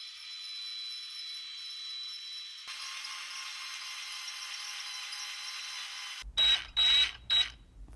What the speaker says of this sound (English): Then drilled 2 holes in the bracket behind the grill.